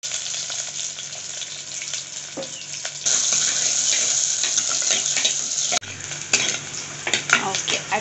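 Spices spluttering in hot oil for a Thirukkai fish rasam: a loud, continuous crackling sizzle with stirring and occasional clanks of a utensil on the pan, the frying swelling louder partway through.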